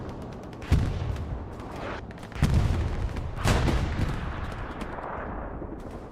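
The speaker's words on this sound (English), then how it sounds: "it's not the best sign in the world when a strafing run is used on defense" Aircraft strafing-run gunfire in the World War II shooter Hell Let Loose during a competitive night match on Utah: several loud bursts of heavy gunfire and booms over a steady rumbling battle din, with no talk.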